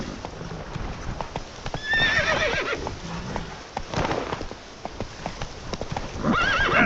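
Roach, the horse in The Witcher 3 game, gallops with rapid rhythmic hoofbeats, breaking into loud whinnies and neighs at a few points, close and prominent throughout.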